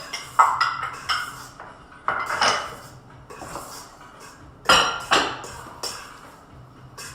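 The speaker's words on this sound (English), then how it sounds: "Cocoa powder and baking powder. Just giving it a little stir." Cocoa powder and baking powder are given a quick stir in a bowl for a red velvet cherry chocolate chip cake, producing several distinct clinks and scrapes of utensil against bowl, close and fairly loud, with no speech.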